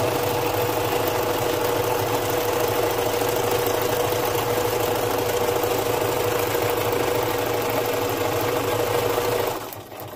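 Sewing machine stitching along the bottom edge of a junk journal cover made from candy corn packaging, a steady continuous whir running close and loud before stopping abruptly near the end.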